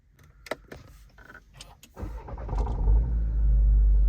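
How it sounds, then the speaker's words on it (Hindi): A Volkswagen Virtus GT with a fault is started: a few clicks and mechanical whirs come first, then the engine cranks and catches, settling into a loud steady idle heard from close by. "देखो मैं स्टार्ट कर रहा हूँ गाड़ी यहीं से"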